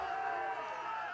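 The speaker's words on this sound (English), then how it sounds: "You can hear the Linn-Benton fans and the ball club cheering pretty loud." Baseball crowd of Linn-Benton fans and the ball club cheering at a college championship game, a brief distant wash of crowd noise with a voice over it.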